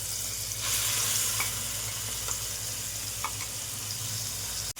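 Garlic, green chili, bean, salt, turmeric and sugar paste sizzling in hot tempering oil in a kadai, a steady close crackling hiss with a louder burst as the paste goes in, then brief stirring clinks.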